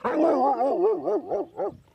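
A 7-month-old Huntaway pup gives a run of close, loud, wavering barks and yelps that rise and fall in pitch, several in quick succession with no talk over them.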